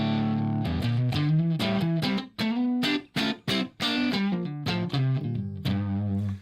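An electric guitar plays chords and single notes through a loud, cranked clean amp set around 9, with sustained ringing tones and brief gaps between phrases.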